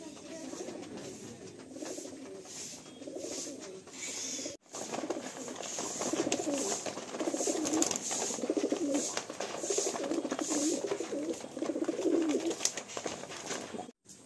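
Pigeons coo continuously in a full loft, soft repeated throaty calls layered over one another at moderate distance, with a brief cut partway through.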